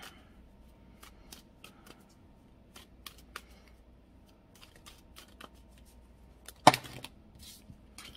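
Tarot cards handled and shuffled close by, a run of soft, sparse flicks and taps followed by one brief, louder burst of riffling cards, with no talking.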